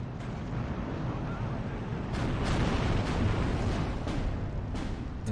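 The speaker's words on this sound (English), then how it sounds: "Let's bring in the Ju-87s to just keep bombing some of these tanks to pin them down a little bit." Ju-87 dive bombers pound tanks in a Steel Division 2 battle, a steady rumbling wall of distant explosions with several sharper blasts breaking through, no voices over the din.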